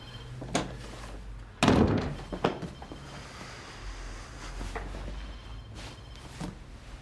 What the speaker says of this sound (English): Yeah, can you close the door?